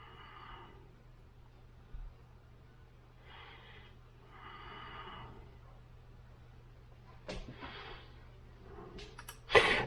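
Breathy gasps in a song played loud through a Chord Mojo headphone amp, several soft airy bursts spaced across a quiet hum, with a sharper sound near the end.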